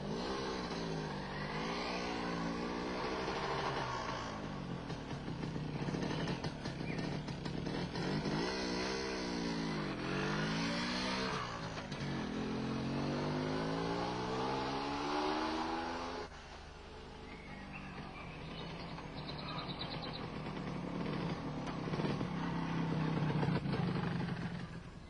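A two-stroke MZ ETZ 251 motorcycle on a test ride, with the engine repeatedly revving up and easing off through the gears and a steady buzzing drone, recorded close with wind and road noise throughout.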